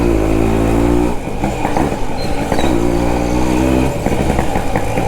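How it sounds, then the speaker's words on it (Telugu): A Suzuki Max 100 motorcycle engine is started and runs, a loud, close, steady idle with harmonic hum, briefly dipping then settling back into a continuous putter with slight throttle variation. "ఏంద్రో ఫస్ట్ ఎక్క బండి స్టార్ట్."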